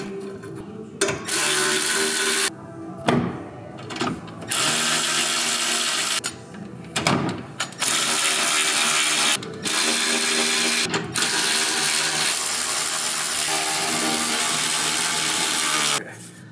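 Ratchet and hand tools click and whir while the skid plate goes back onto a Polaris RZR Pro XP, loud and near, in busy bursts broken by short pauses.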